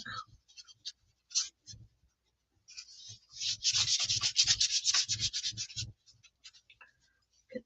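Paper is rubbed by hand onto a gelli printing plate, brisk scratchy strokes that start in short bursts and build into a rapid, continuous rubbing run before tapering off.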